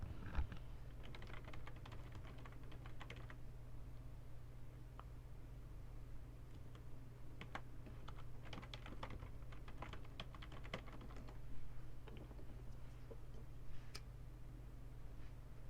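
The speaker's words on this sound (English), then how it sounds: "So I typed in removing hard drive from HP" Keys clatter on a computer keyboard in quick irregular bursts, faint and close, with short pauses between runs of typing and no talk.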